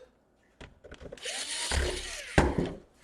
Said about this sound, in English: let's see if I put a couple of screws in, maybe it's gonna tighten down here